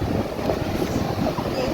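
Steady wind buffets the microphone at a beach, a continuous low rumbling roar with a faint wash of surf behind it and no clear voices.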